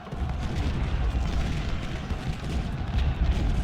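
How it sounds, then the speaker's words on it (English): Continuous Civil War cannon and artillery fire in the video game Ultimate General Civil War at the Battle of Malvern Hill, a dense rumbling barrage of overlapping booms with no speech. "King, keep firing on these guys as they advance."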